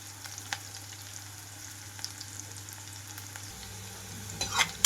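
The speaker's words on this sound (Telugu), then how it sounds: "ఉల్లిపాయలు వేగేటప్పుడే వెల్లుల్లి కూడా వేసేసుకుంటున్నాను. 2-3 నిమిషాల పాటు ఫ్రై అవనిస్తున్నాను." Onions and garlic fry in a pan for tomato rice, a quiet, low sizzle with occasional light clicks, closing on a short burst of scraping or stirring.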